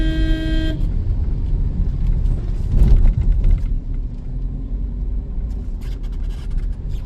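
Small car driving faster on a local road with a beginner driver: a continuous loud engine and road rumble throughout, a short horn-like tone at the very start, and no talking.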